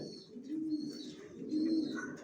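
Racing pigeons in a home loft coo in two rounded, low calls, one after the other, close and clear, with faint higher chirps above.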